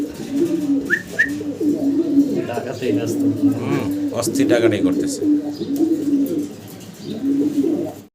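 Caged foster pigeons on a pigeon farm coo repeatedly in low, throaty rhythmic bursts while someone talks over them nearby.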